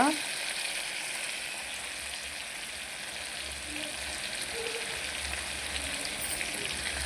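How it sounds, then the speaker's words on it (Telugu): Cumin seeds crackle and sizzle in hot oil in a home kitchen while eggplant cumin rice is being made, a steady broadband frying hiss running throughout without talk. "నేను ఈ జీరాని పిందులు వేసేయాలి ఈ జీరా ఫ్లేవర్ అనేది ఆయిల్లో దిగుతుంది అనమాట"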